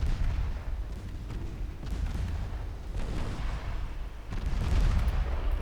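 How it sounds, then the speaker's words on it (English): Torpedoes striking transport ships in the naval game Ultimate Admiral Dreadnoughts: a loud, continuous rumbling barrage of muffled booms and blasts, swelling near the end. "transports are about to take some torpedoes"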